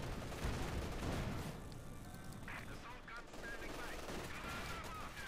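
Rapid rifle and grenadier gunfire crackles through a Company of Heroes 2 battle, dense bursts and sustained volleys running steadily throughout, mixed with game ambience under a commentator's voice.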